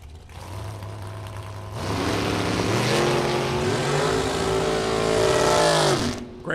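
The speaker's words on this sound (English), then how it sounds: "Looks like a Mopar powered 2011 racecraft dragster." A Mopar-powered 2011 Racecraft dragster roars down a drag strip, the loud engine note climbing through rising gear pulls before cutting off sharply near the end.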